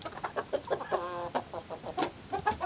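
Hens cluck softly and peck near a weak chick, with short repeated clucks and a brief drawn-out call in the middle, close by and alone.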